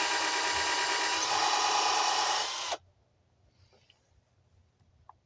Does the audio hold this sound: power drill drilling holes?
yes